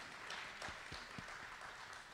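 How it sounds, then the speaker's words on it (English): An audience at a Georgia governor candidates' forum gives faint, distant applause: a soft, continuous patter with a few slightly louder claps, and no voices over it. "And while that deserves a round of applause."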